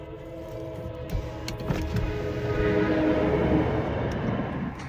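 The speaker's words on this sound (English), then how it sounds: "what I like about these passenger trains, they're real quick." A passenger train rumbles past nearby, a broad steady roar with rattling and rising intensity, briefly accompanied by a horn-like tonal sound, no talking.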